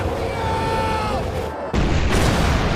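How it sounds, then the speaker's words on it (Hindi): A deep, loud boom from a bomb dropped from a plane in a film erupts partway through, following a brief dip in sound, then a dense rumbling roar that continues to the end. "जहां काफी बड़ा धमाका होता है।"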